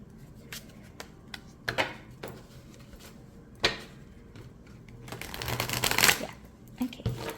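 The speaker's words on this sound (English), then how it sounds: "So I think no issues with riffle shuffling." A Crow Tarot deck, a little larger than standard tarot size, is riffle shuffled: bursts of crisp card flutter and snapping swell to a dense cascading riffle near the end, close and alone.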